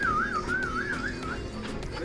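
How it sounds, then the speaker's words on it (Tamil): A warbling whistle, rising and falling in a wavy pitch for about a second and a half, rings out on a rooftop terrace during a lockdown camping trip, over steady background noise and without talk. "விசில்"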